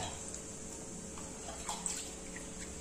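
Water runs and splashes faintly as a stone grinding slab and its roller are rinsed in a plate, with a steady low trickle and a few soft drips and splashes.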